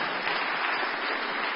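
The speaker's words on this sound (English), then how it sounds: "You go ahead and applaud." A congregation applauds at a church special event unveiling preliminary architectural plans: a dense, steady wash of many hands clapping together, even and unbroken for under two seconds with no voices on top.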